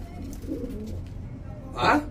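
High flyer pigeons coo softly nearby, low murmuring calls under a faint hum, with a short burst of voice breaking in near the end.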